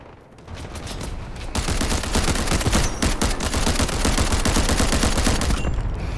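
Rapid gunfire rattles in the Delta Force video game, where a Mini-14 rifle is in use. Dense overlapping shots fire continuously and loudly, growing heavier after the first second, with no talking.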